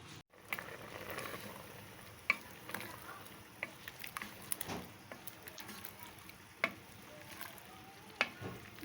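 Boiled chickpea chaat potatoes simmering with tamarind water, spiced with crushed chillies and asafoetida, give a soft steady sizzle and bubbling with light stirring scrapes and a few sharp utensil clicks, close and fairly quiet.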